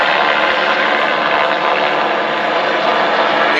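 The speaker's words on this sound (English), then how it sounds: "I think the helicopter's going to take another run" A DHS helicopter hovers over the border at night, its engine and rotor producing a loud, steady broadband roar throughout without breaks.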